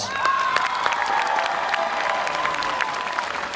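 A high school graduation crowd applauds and cheers at a commencement ceremony, a steady dense wash of clapping with whoops and shouts rising above it for the whole stretch.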